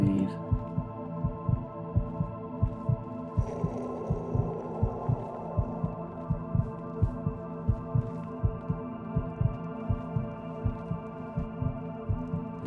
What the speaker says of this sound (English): That's a lot of heartbeats.